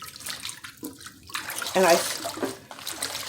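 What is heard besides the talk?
warm water running in a sink to wash greens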